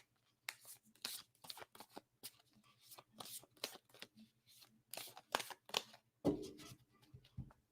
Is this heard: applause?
no